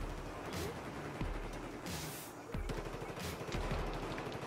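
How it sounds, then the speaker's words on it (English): A shotgun fires in a multiplayer shooter video game, with several loud blasts and bursts of gunfire mixed into dense game noise, clicks and mechanical clatter. "did I shoot you in the face with the shotgun"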